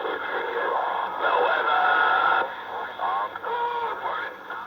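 CB radio picking up distant skip transmissions: crackly, band-limited voices chattering through static, fading in and out, heard alone on the receiver.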